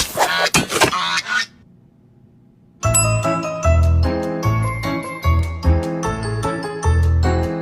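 A goose honks in a short burst, then after a pause a bright jingling melody with bell tones plays loudly.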